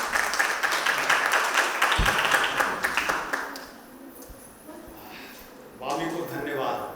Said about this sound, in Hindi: कृपया जोरदार तालियां सर के लिए।